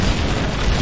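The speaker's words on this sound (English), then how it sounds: "Quad cannon." A quad cannon fires in a vehicle combat video game, a loud, dense, continuous booming blast that fills the moment with low rumbling and no talk over it.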